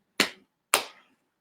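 Two hand slaps on a lap, about half a second apart, each a sharp close smack that fades quickly, with silence between.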